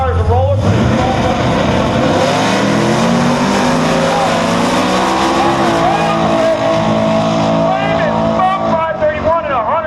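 A 1993 Mustang Cobra race car roars loudly at close range in drag racing, its engine revving and climbing in pitch over a harsh, steady exhaust blare.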